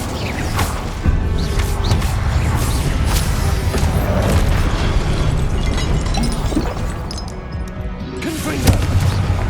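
Incendio fire spell in Hogwarts Legacy combat, a loud, continuous roaring whoosh of flame mixed with booms, crashes and impacts, with brief voice sounds over it.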